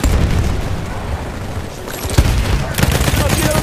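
Battlefield 1 battle in which machine gun fire clatters in rapid, loud bursts, mixed with booms and explosions close by in a dense, chaotic wartime din.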